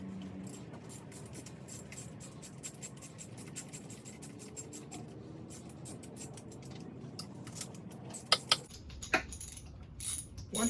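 A ratchet tightens the spark plugs on a Mercury 25 hp two-stroke outboard motor, giving quick, quiet, rapid clicking in close-up bursts, with a few louder clacks near the end.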